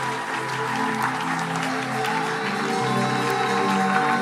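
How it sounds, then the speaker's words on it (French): A crowd applauds at a religious prophetic gathering, dense sustained clapping throughout with a low murmur of voices underneath. "On acclame."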